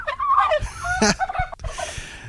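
A wild turkey gobbles in a loud, close, rapid warbling burst, followed by a few softer clucks.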